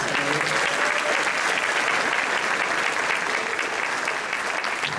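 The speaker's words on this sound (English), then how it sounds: "Let's give them another round of applause." Steady, dense applause from a large audience at a concert awards presentation, continuous and loud throughout.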